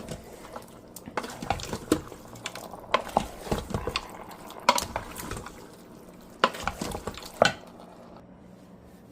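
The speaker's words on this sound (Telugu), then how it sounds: "ఇక్కడ మంచిగా మిక్స్ చేసుకోవాలి" Mutton curry, a spicy Telugu-style mutton pulusu cooked without oil, being stirred in a pot: irregular close scrapes and clinks of the spoon against the vessel, with no talking.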